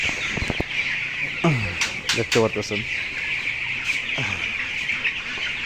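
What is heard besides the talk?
broiler chickens clucking in poultry shed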